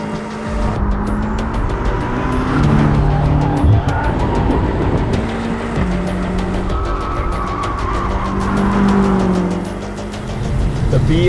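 BMW M8 Competition Coupe with a 617-horsepower 4.4-litre twin-turbo V8, engine roaring under hard driving with bursts of tire squeal, loud and sustained, engine tone shifting as it accelerates.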